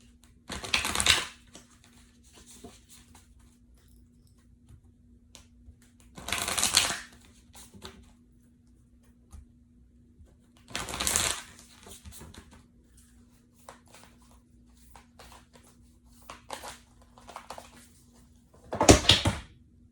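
A deck of oracle cards is shuffled in four short, crisp riffling bursts spaced several seconds apart, close to the microphone in a quiet room with a faint steady hum between them.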